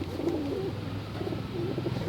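Soft pigeon coos repeat a few times close by, a low murmuring call over quiet background noise.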